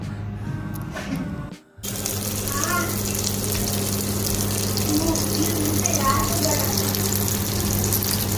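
Marinated fish frying in hot oil gives a dense, steady sizzling hiss that drops out briefly near the start, then holds loud and even throughout.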